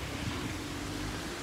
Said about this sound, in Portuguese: Ó o vento que tá vindo.